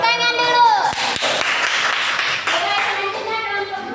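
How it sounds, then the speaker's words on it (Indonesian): A classroom claps hands together after a student group presents in a fiqh lesson, a dense clatter of many hands close by with children's voices mixed through it. "Baik, tepuk tangan dulu."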